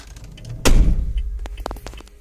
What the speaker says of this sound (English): You close the door again because it wanted the door closed